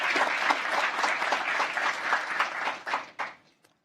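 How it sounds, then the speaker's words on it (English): A conference audience gives a warm round of applause, dense steady clapping for a few seconds that thins out and trails off into scattered final claps. "let's have another round of applause just to thank them"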